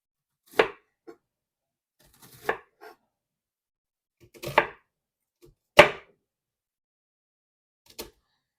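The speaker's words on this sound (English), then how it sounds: "I'm going to show you how to cut your cabbage up. So we're just going to cut it into slices." A knife chops through cabbage into slices on a cutting board for sauerkraut, five separate sharp chops spaced about a second or two apart, each followed by a faint tap, close and alone.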